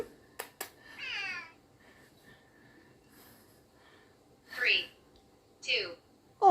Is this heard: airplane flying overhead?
no